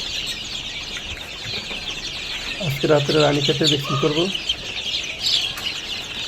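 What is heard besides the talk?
native chicken chicks, 21 days old, on a farm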